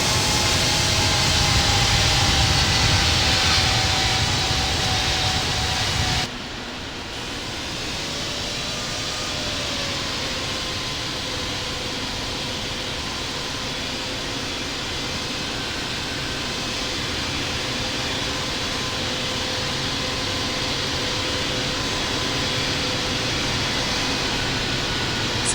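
Steady, loud broadband roar of an airliner's jet engines taxiing at Heathrow in the Infinite Flight simulator, with a sharp drop partway through before the even whine and rumble carries on alone to the end.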